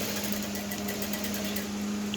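Sewing machine stitching the seam of an off-shoulder peplum blouse, a steady close motor whir with fast, even needle chatter running without pause.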